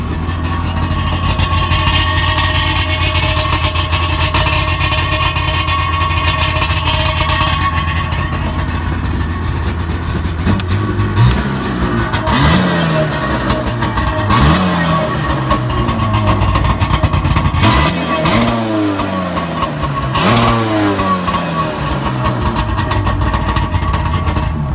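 A 1997 Sea-Doo personal watercraft engine runs loud and close, a steady droning idle with rising and falling revs partway through as the throttle is blipped repeatedly, no talking over it.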